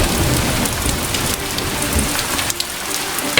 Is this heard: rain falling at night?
yes